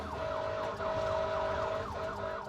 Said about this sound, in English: riding in a fire truck going at breakneck speed with all the sirens wailing at full blast